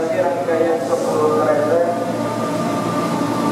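Steady rumble and hum inside a moving Japanese-built train carriage in Jakarta, with faint voices and a chime-like tone briefly standing out over the constant background.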